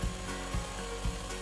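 A 48-volt cordless brushless chainsaw cuts through wood with a steady buzzing whine, pulsing with three rhythmic thumps as the chain bites, close and loud.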